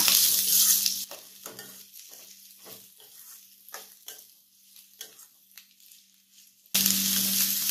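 Onion and curry leaves are stirred into bitter gourd frying in a pan, opening with a bright sizzle, then a run of scraping spatula strokes in an uneven rhythm, before the loud sizzle returns.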